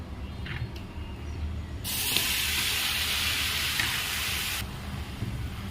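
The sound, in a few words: cooking snake gourd with poppy seeds in a pan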